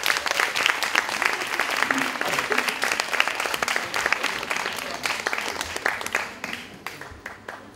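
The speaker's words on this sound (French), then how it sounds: "Sous vos applaudissements." Lively applause from an audience at an awards ceremony on stage, dense and loud at first, then thinning into scattered claps as it fades toward the end.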